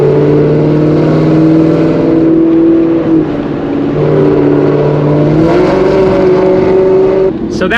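A catless Gen 3 Mustang GT running E85 accelerates at night, its V8 note rising steadily in pitch through sustained, loud harmonics that dip briefly and climb again, with a sharp burst near the end.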